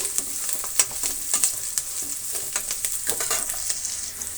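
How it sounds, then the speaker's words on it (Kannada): Onions sizzle in hot oil in a pan with dried curry leaves, a steady bright crackle with scattered sharper pops throughout. "ಸ್ವಲ್ಪ ಫ್ರೈ ಆಗಲಿ ಈರುಳ್ಳಿ"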